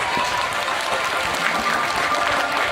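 Participants at an angklung session at Eco Bambu Cipaku clap together in a steady, moderately loud round of applause that fills the space evenly throughout.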